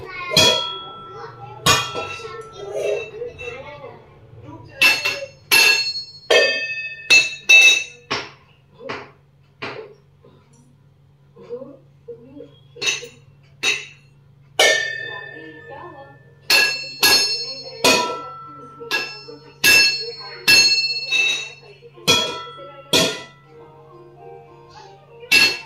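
A child bangs and plays with metal pots, pans and kitchen utensils at home, loud sharp clangs and ringing dings struck in irregular bursts over a low steady hum, with a voice speaking at times.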